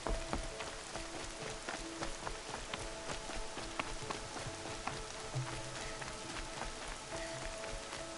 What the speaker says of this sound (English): Also, it's raining now.